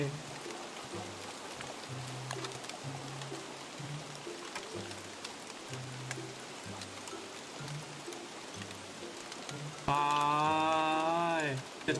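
Rain falls steadily in the video game Don't Starve, a soft continuous patter under in-game music, with a louder tonal game sound near the end.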